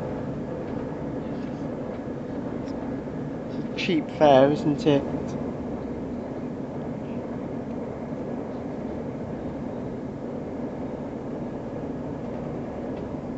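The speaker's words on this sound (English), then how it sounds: "I'm just only filming the train" Steady low rumble inside a moving Chiltern Railways class 168 diesel passenger train between Oxford Parkway and Oxford, with a brief burst of conversation partway through.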